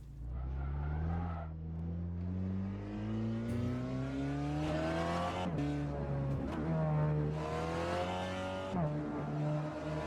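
A VW Golf GTI TCR front-wheel-drive race car circles a track, its engine droning and rising through the gears with throttle blips in corners and brief tire squeal, heard from inside the car throughout.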